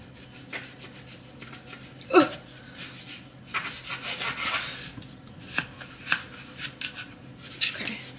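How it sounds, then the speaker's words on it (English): A dull kitchen knife cuts a big and a small potato into quarters, giving scattered sharp chopping taps and rubbing scrapes against a board, close by and fairly quiet. "So, now I'm going to get two potatoes, a big one and a small one. And just cut them in fours."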